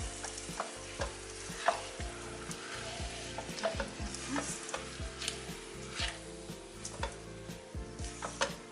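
Rice and goat ribs are stirred in a pot, a series of scraping, clattering utensil strokes over a bed of steady frying sizzle, close and irregular, with no talking.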